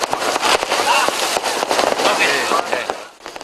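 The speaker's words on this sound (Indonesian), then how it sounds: "Mereka menikmati mendengar dentuman yang terdengar dibarengi percikan cahaya kembang api yang mengudara di langit Kota Denpasar" New Year fireworks burst over the city of Denpasar in dense, continuous crackling and popping booms, loud and close, with crowd noise mixed in before the bursts thin out at the end.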